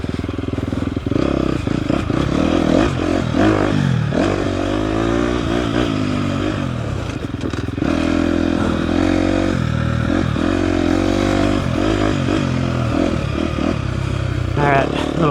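A 2024 KTM 250 XCF dirt bike engine lugs and revs on an off-road trail in Texas, a loud close rumble rising and falling through gear changes with clattering over rough ground, while a rider talks over it.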